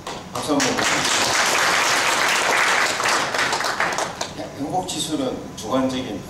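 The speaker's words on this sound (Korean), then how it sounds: "박수 한번 부탁드립니다." Conference audience in a hall breaks into sustained applause, dense and loud for several seconds before thinning out as a voice begins speaking over the tail end.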